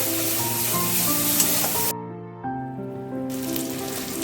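Aubergine frying in a pan for an aam begun chachchari, a dense hissing sizzle that briefly drops away and then returns, close and fairly loud, with no talking.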